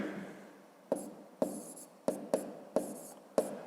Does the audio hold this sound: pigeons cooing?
no